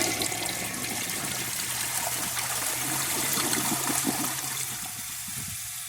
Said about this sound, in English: So here is a flush to start out with.